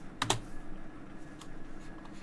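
A computer keyboard key is pressed twice in quick succession, two sharp close clicks followed by faint room hum.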